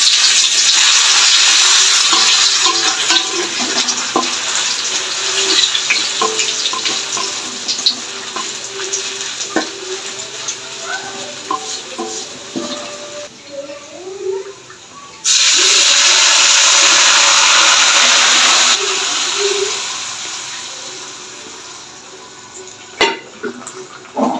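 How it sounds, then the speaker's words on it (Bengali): Bay leaf, two dried red chillies and cumin seeds crackling in hot oil for a Bengali tempering, a steady close hiss of frying with occasional clinks and stirring, louder bursts in the middle and near the end. "তেজপাতা, 2টা শুকনো লঙ্কা দিয়ে দিচ্ছি ফোড়নে, আর দিয়ে দিচ্ছি জিরা।"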